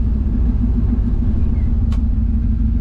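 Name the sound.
1967 Chevrolet C10 with 6.0L engine driving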